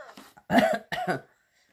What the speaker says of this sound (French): je tousse un petit peu et tout